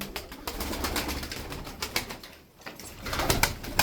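Tokat tumbler pigeons, a flock of about thirty young play birds, flap and clatter their wings in repeated bursts. The bursts come close and loud, with faint cooing and a brief lull midway.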